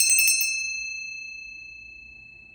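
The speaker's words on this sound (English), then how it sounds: "So I do want to cleanse the energy in your space and in mine with the bell" A small bell is struck a few times in quick succession, bright metallic pings that blend into one clear ringing tone, then a long smooth ring fading slowly over two seconds in a quiet room.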